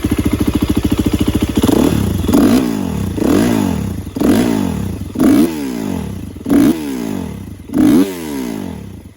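A 2016 KTM 350 EXC-F enduro motorcycle engine idles steadily before being blipped through a series of about seven sharp, loud throttle revs, each rising and falling back with a short clattering pause between.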